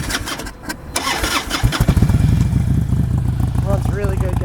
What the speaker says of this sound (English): Let's fire this beast up.